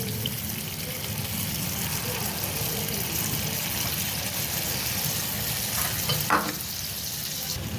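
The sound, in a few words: coconut-jaggery-banana batter sizzling in hot oil in appe pan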